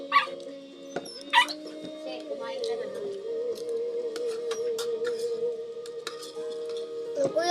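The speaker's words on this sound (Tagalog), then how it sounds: "Ingay ng aso namin" Nearby, a family dog whimpers in a long, drawn-out whine, broken by a few sharp yips at the start and end.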